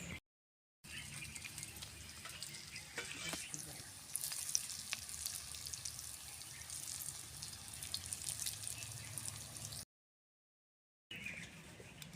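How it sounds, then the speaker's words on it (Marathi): Coriander vadis (kothimbir vadi) deep-frying in hot oil: a steady broad sizzle and bubbling that runs on with brief dropouts and faint knocks, no talk. "आपण ह्या बाकीच्या वड्या अशा सगळ्या तळून घेऊया"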